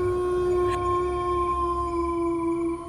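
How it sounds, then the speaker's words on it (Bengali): Jackals howl from far away on a deserted winter night behind a village, a long, steady, drawn-out wail with no voices nearby. "শুধু ঝিঝি পোকা আর দূর থেকে শিয়ালের ডাক"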